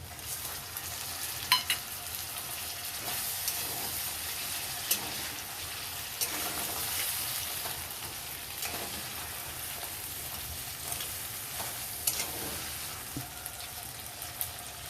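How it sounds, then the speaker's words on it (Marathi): Tomatoes fried with spices in a pan give a continuous soft sizzle, with occasional scrapes and clinks of a spoon stirring, close and steady for the whole stretch, with no voices. "टोमॅटो पण परतते."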